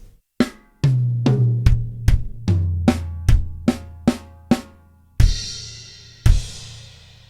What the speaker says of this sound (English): Okay, so the linear fill, including the crashes, sounds like this.